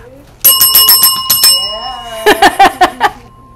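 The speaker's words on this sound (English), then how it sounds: "Ring the bell for that." A bright bell dings rapidly several times with ringing overtones, followed by a second quicker flurry of metallic rings that fade into a sustained tone.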